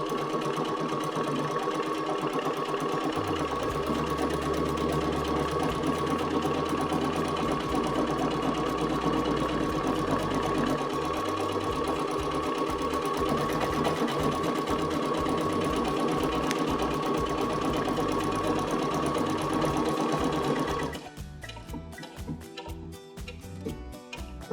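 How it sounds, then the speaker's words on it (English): A Baby Lock Jubilant sewing machine stitches a buttonhole, run from its start-stop button, with a steady, close mechanical hum and rapid needle ticking for about twenty seconds before it stops, leaving faint clicks. "Once again, I'll stitch using the start-stop button."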